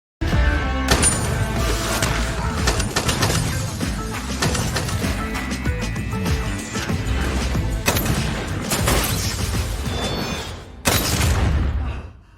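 Gunfire in a dramatic film scene where a leg is shot, dense and loud, a continuous barrage of blasts and crashes layered with score and effects, ending in a heavy final burst.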